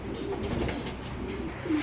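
Cooing from a pair of red checker racing pigeons, low soft hooting calls repeating through the moment, fairly close, with faint background noise and no talk.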